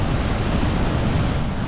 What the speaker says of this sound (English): Tons of water going over right now with the snow melt.